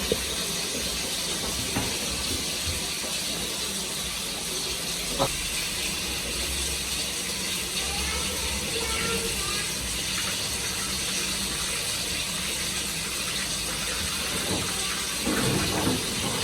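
A water pump draws water out of a storage tank into a PVC drain pipe, giving a steady, loud rushing hiss that runs without a break and carries a low motor rumble.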